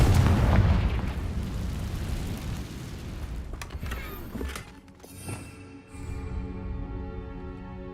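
A Confringo fire spell detonates in Hogwarts Legacy, opening with a loud, dense explosive burst that rumbles for several seconds, then thins into scattered crackling pops and a lingering tonal ring as the blast decays.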